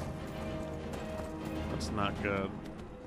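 Horse hooves galloping in Skyrim, a continuous rapid clip-clop under game sounds, with someone speaking briefly over it.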